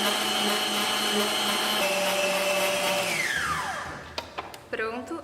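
An electric stand mixer whips fresh cream with 35% fat, a steady loud whirring hum that winds down and stops near the end, followed by a few soft clinks and handling sounds.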